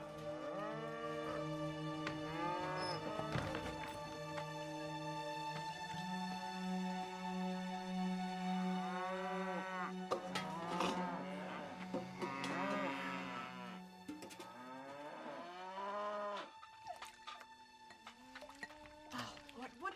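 Cattle being herded moo again and again, long drawn-out calls that sometimes overlap, near and fairly loud, with a voice calling at times among them.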